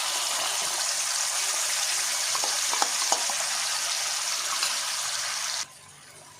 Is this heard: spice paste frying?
yes